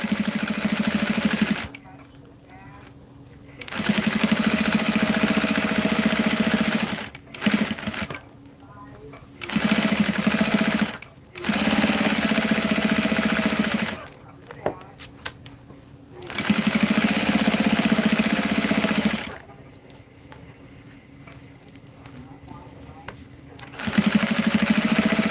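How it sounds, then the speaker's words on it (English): Sewing machine stitching fabric for a baby gift, set to 3.0, running in several long steady bursts of a few seconds each with short pauses between, close and loud. "And I'm going to stitch the other side too."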